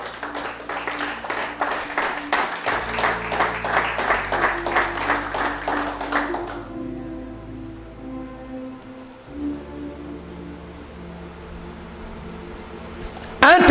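A church congregation breaks into sustained applause during a French-language sermon, steady dense clapping for several seconds before fading into a quieter hall with a low sustained tone underneath.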